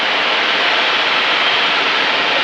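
Inside the cockpit of a Piper Super Cub light aircraft in flight, the engine and airflow make a loud, constant broadband roar with no variation.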